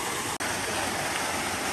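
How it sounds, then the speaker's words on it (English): Waterfall in the Georgia Piedmont woods, a loud, constant roaring rush of falling water heard up close, unbroken apart from one brief dropout. "So there's the main waterfall over there"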